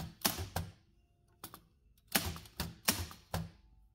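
Typing on an old German AEG No. 6 typewriter with a Yugoslav keyboard, giving sharp, close key strikes in small irregular bursts with brief pauses between them.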